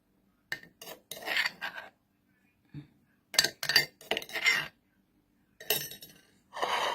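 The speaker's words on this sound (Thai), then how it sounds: "แล้วก็ค่อยๆตำนะเพราะว่ามะเขือเขาจะเยอะมาก ๆ เลยเนาะ" Boiled eggplant is pounded in a mortar: a few scraping, squelching pestle strokes come in short bursts separated by pauses, close and fairly clear, with no speech.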